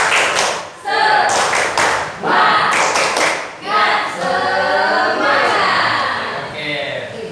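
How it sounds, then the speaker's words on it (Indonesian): A school class claps together in a rhythmic spirit-clapping pattern, bursts of synchronized claps between short gaps, with voices chanting along. "Tepuk semangat."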